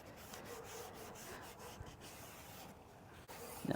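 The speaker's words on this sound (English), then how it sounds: "we're just wiping down this side here." A cloth rubs across a car's interior side trim panel during a carbon fiber trim upgrade on a Tesla Model Y, giving soft, steady close wiping strokes at low volume.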